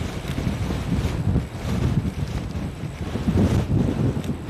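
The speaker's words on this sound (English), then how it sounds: "There's the wind." Strong wind blows steadily outdoors, a rough low roar with buffeting gusts battering the microphone throughout, no voices present.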